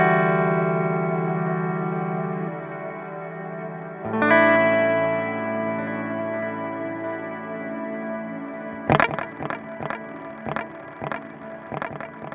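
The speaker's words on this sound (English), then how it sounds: "you're hearing the actual scattered delays that are in there" An electric guitar through a Chase Bliss Mood MkII pedal plays long sustained chords, then a sharp attack breaks into scattered delay repeats. The repeats come as a series of rhythmic, shimmering echoes that slowly fade, loud and close.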